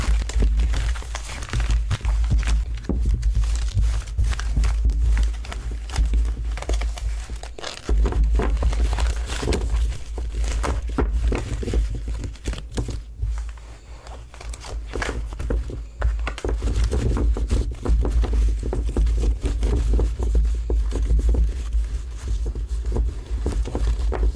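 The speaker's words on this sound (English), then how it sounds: "once you start learning how to shuffle tarot decks, they are a little slick to shuffle" Tarot deck of large, slick cards shuffled by hand, giving continuous close crinkling, riffling and soft slapping with a few brief pauses, no talk.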